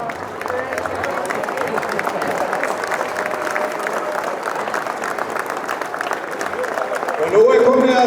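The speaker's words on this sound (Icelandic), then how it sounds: "Allir herramenn hér inni, þeir standa upp og klappa fyrir konunum sínum." A crowd of men at a seamen's union 40th anniversary celebration stands and applauds, sustained clapping filling the hall, with a voice speaking over the end.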